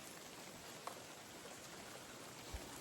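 Light drizzle in Florida woods on a windy morning during bow hunting, a soft steady patter hissing evenly throughout, with a couple of faint single drops standing out and no talking.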